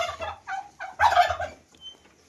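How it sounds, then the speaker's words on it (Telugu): A turkey gobbles loudly nearby on a poultry farm in a few rapid rattling bursts, followed by a brief quieter call, with no talking. "ఇగో ఇలా రెండు మా టర్కీ బర్డ్స్ కూడా ఉన్నాయి"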